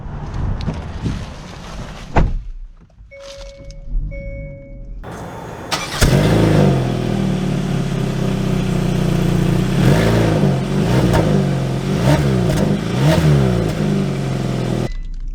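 A 2023 Hyundai Tucson XRT starts up after a few soft interior clicks and chimes, then drives off, its engine rising and falling through repeated accelerations with road and wind noise, close and steady with no talk.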